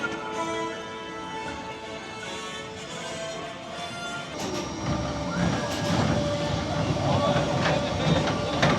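A roller coaster train at Tusenfryd amusement park in Norway runs along its track with a steady rolling rumble and rattling clatter that grows louder and rougher midway, a faint background murmur of talk underneath.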